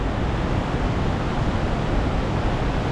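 Powerful waterfall pouring down with a great deal of force, a loud, steady, broadband roar of rushing water that continues without a break.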